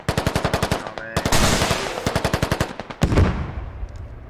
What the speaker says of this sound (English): now you're getting shot at